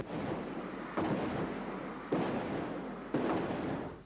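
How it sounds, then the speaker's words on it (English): Booming bursts of concert-finale fireworks at a 1996 show in Perth, three strong blasts about a second apart over a continuous rumbling wash of noise, heard from a distance. "a fireworks spectacular that dazzled the crowd"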